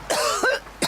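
A woman gives three quick, harsh coughs, close and fairly loud, evenly spaced within a second, with no speech.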